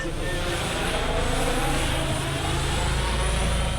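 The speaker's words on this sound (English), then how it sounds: "the drone's really interesting. It's quite loud" Loud, steady buzzing drone of a small multirotor camera drone close by overhead, continuous throughout with a dense whining hum like a swarm of bees.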